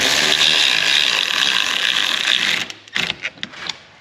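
A ratcheting tool clicks rapidly and steadily while a bolt is snugged on a Can-Am X3 side-by-side, close up, then stops and gives way to a few scattered knocks and clacks.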